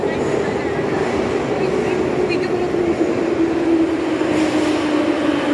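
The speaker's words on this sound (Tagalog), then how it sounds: "Ayan na po yung train." A train pulls into a station in Georgia with a loud, steady rumble and a low drone that slowly falls in pitch. A faint squeal rises near the middle.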